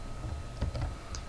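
Light, quick taps on a computer keyboard, a short cluster of soft clicks close by over a low steady hum.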